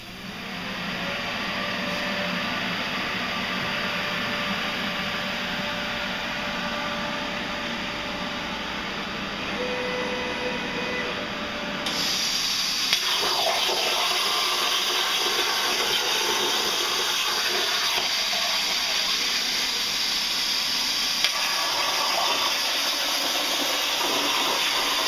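A Longevity Force Cut 60i plasma cutter and an air compressor run in a garage shop, giving a steady broad hiss and mechanical drone that grows louder and rougher partway through and continues without voices.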